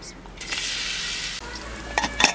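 Two large sliced onions hit about half a cup of hot oil for mutton pulao, setting off a loud, steady broadband sizzle that holds throughout, with a brief dip and a few sharper spatters and utensil clinks near the end.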